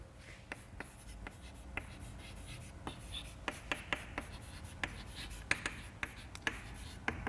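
Writing a theorem on a board during a lecture gives quiet scratchy strokes and sharp taps at an irregular rhythm, close by and fairly faint.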